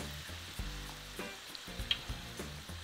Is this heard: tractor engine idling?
no